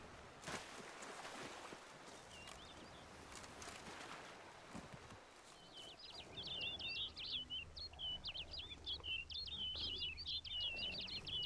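Birds chirp in the Witcher 3: Wild Hunt Blood and Wine game world, a rapid run of high tweets over steady wind-like ambience during the second half, with no talking.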